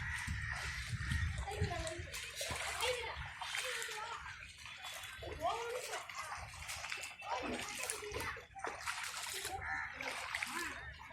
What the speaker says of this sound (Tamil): எங்கள் வீட்டுக்குள்ள எந்த அளவுக்கு தண்ணி வருது பாருங்க.